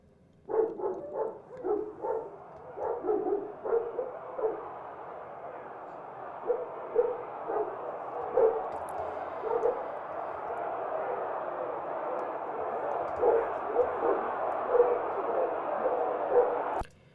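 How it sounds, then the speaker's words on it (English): Several dogs bark in a muffled, repeated chorus amid a dense crowd-like din that stays steady for the whole stretch, the barks fading into the rumble. "I have dogs barking here as well,"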